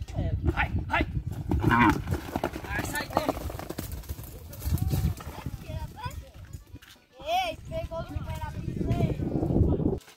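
A cattle herd lowing with repeated deep moos, heard alongside a horse's hoof clatter and people calling out and talking throughout.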